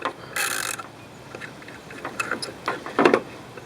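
A socket wrench working loose a 10mm bolt on a 2015 car horn mount, with an initial burst of noise followed by scattered faint ratcheting clicks and small metallic taps, close by and fairly quiet.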